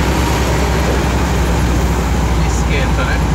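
A loaded Ford Cargo 4532 truck labours up the Serra climb on the Rodovia dos Imigrantes, its steady engine drone blending with dense road and traffic noise. Other heavy trucks run nearby, and the hum stays constant throughout.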